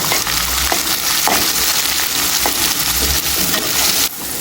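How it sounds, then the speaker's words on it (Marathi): Onion and tomato with a spoonful of salt sautéing in hot oil for a masala moong and potato bhaji, a steady close sizzle with intermittent scraping stir strokes throughout. "तेलावर परतून घ्यायचं"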